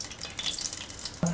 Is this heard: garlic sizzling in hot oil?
yes